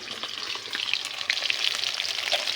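Fish frying in a pan with oil, a steady crackling sizzle with scattered sharp pops and spits, close and continuous throughout, with no talking.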